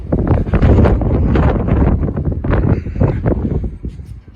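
Loud, buffeting wind gusts batter the microphone in low rumbling bursts, rising and falling unevenly throughout.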